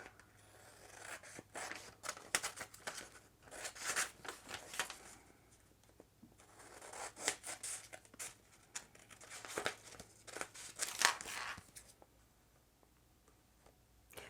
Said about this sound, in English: Okay, I'm just gonna cut the extra off.